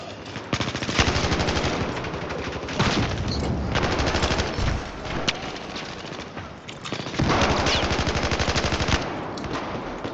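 Light machine gun fire in Battlefield 4, long rapid bursts of close automatic shots separated by short pauses, loud and dense.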